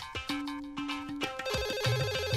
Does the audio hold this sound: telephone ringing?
yes